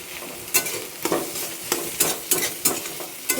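Banana flower mocha cooking in a pan, stirred with a spatula in a steady rhythm of sharp scraping strokes roughly every half second over a constant close sizzle.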